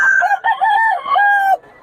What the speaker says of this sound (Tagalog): Ito yung murang mga manok ni Boss Dada mga idol.